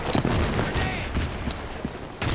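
A frag grenade blowing up in the video game Battlefield 2, heard among scattered bursts of gunfire and radio-style voice callouts, several sharp booming hits spaced irregularly across the moment.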